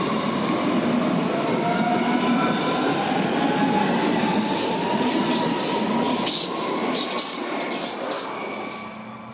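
An S8 suburban train runs near the Mainz tunnels at Mainz-Römisches Theater, giving a continuous rumbling ride with wheel noise and brief squeals, close and steady before easing off near the end.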